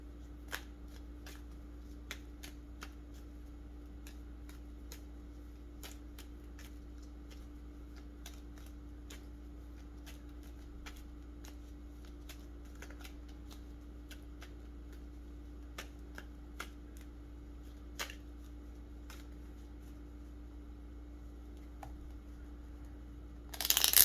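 Tarot cards shuffled and handled, giving soft, scattered riffling clicks and flicks over a steady low room hum, with a louder burst of handling right at the end; no one talks.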